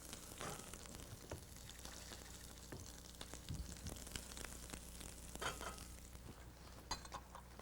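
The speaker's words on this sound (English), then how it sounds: "Just a quick stir fry." Stir fry with fresh ginger sizzling hard in a hot pan, a steady dense crackle and hiss running throughout with occasional louder spits and faint clinks of stirring, no talking.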